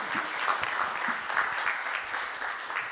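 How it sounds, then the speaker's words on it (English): An audience at a climate finance focal points meeting claps for a presenter, a dense, even round of applause holding steady for the whole stretch without talk. "So please give her the large applause."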